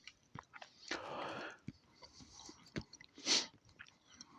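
Raw onion being bitten and chewed close to the mouth in a quiet room: soft, irregular crunches and wet mastication sounds, with one sharper bite standing out.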